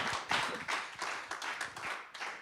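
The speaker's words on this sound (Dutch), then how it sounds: "iedereen die hier aanwezig is een heel warm applaus" An audience at an awards event gives a warm round of applause, a close, dense patter of clapping with uneven swells, and no voices over it.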